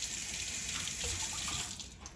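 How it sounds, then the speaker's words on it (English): Broccoli rinsed under a running kitchen tap, a steady close hiss of flowing water splashing over the florets in the sink, continuous and alone without talk. "we're gonna take our broccoli. I got a little bit too much. We're gonna rinse it."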